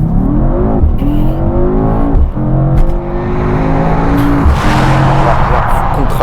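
Mercedes-AMG E63S launching hard under launch control, its engine climbing through rising, stepped gear pulls for several seconds, loud and close from inside the car, with brief shift breaks and a few faint voice fragments.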